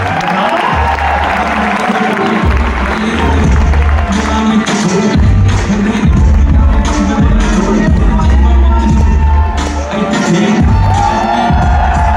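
A birthday party crowd claps and cheers indoors, loud sustained applause with whoops and shouting voices mixed in throughout.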